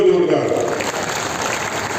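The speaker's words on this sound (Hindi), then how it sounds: "तालियां बजा सको जोरदार।" Crowd at a farmers' political rally in Rajasthan claps loudly, a brief dense burst of applause that starts strong and settles into steady clapping, with a voice briefly over the start.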